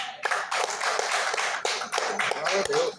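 A church congregation clapping for Jesus during a service, a dense, rhythmic burst of many hands clapping together in steady time, loud and close.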